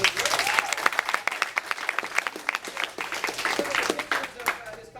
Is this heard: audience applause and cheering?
yes